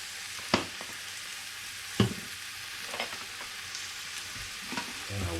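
Squash mix frying in a pan with basil and garlic, with a spoon stirring it. Soft steady sizzle runs underneath, and a few sharp scraping clacks land at irregular moments. No one speaks.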